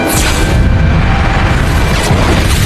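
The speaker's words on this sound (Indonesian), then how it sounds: "ledakan tak terduga terjadi akibat percikan api kecil dari kabel listrik yang terlepas membuat gas yang sudah mulik-bak di ruangan terbakar" Film sound effect of gas in a room ignited by a spark from a loose electrical cable, a loud, dense, sustained roaring blast filling the whole clip without a break.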